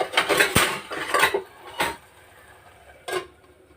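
A metal lid set onto a frying pan of amaranth leaves gives a few sharp clanks and clatters up close, then the kitchen settles to a quiet hiss with one more light knock near the end.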